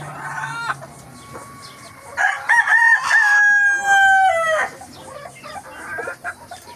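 A rooster crows loudly and close by amid clucking hens, the long drawn-out crow standing out above the flock's chatter.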